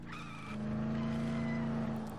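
Car tires skidding in the Dead Island video game, a sustained engine drone with a squealing tone running steadily through the whole short stretch, fairly loud and continuous.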